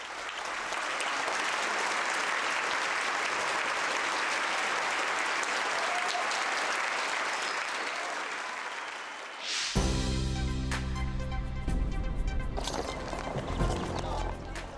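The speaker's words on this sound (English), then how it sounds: "One by one, they stood up from their seats and applauded the little angels." Audience applause for a Korean children's choir concert on a touring performance, broad steady clapping from a large crowd for about ten seconds, then cut off as music takes over.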